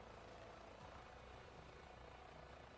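An observation helicopter in a flight video game gives off a steady, fairly faint rotor and engine drone that continues evenly with no voices.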